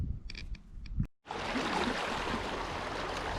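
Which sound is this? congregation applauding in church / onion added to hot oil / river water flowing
river water flowing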